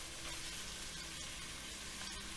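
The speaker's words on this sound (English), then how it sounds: "we want to brown the braciole" Braciole browning with onion in a hot pan gives a steady, close, dense sizzle and crackle that runs unbroken from start to finish, with no voices.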